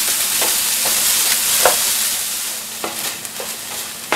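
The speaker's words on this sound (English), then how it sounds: "now we're going to add our onions and ham, and we're going to saute this for about 2 minutes" Chopped onions and ham sauté in hot oil in a pan, giving a steady bright sizzle with a few soft stirring scrapes and clicks, close and alone.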